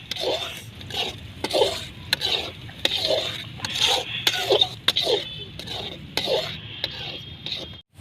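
A spoon stirs and scrapes a mushroom chilli mixture around a pan, with repeated rhythmic scraping strokes and light clinks against the metal, close and fairly loud, over a soft sizzle.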